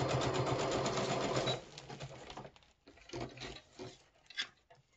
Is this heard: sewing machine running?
yes